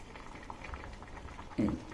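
Jackfruit seeds boil in a pot on a stove, giving a low, steady bubbling simmer with a louder burst of bubbling near the end, with no voices.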